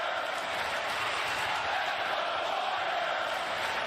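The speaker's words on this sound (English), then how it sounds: "Boy, listen to that cheer. That's not canned noise." A large arena crowd cheers and roars steadily throughout an NBA game between the Golden State Warriors and New Orleans Pelicans, a dense, continuous wash of fan noise with no individual voices standing out.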